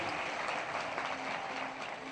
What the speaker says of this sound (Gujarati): સ્વામીને પણ આપણે તાળીઓના નાદથી વધાવીએ